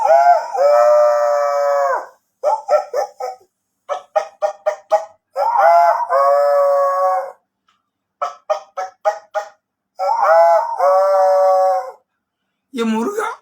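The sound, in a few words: man imitating a rooster and hen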